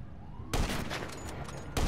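Gunfire in Grand Theft Auto V breaks out as a loud burst of rapid shots with a faint siren-like tone behind it, then a second burst begins right at the end.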